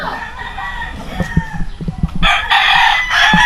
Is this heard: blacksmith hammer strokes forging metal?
no